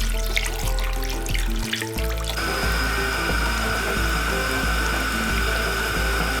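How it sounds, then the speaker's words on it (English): Water pours steadily into a braising pot over short ribs, a continuous close splashing stream joined by a faint rhythmic mechanical hum partway through. "Just enough water to cover."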